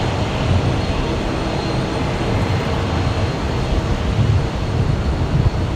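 A Boeing 777 takes off from runway 01 right at Brisbane Airport, bound for Auckland. Its broad, steady jet roar holds loud and constant throughout.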